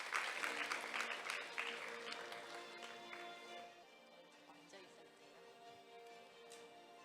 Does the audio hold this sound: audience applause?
yes